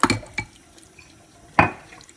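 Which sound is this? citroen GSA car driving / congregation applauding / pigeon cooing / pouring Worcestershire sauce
pouring Worcestershire sauce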